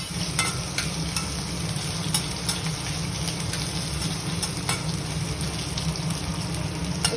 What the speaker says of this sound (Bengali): আমি আলুগুলো ভেজে নিচ্ছি।